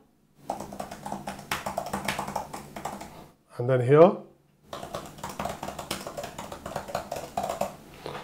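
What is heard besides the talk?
tablet keyboard typing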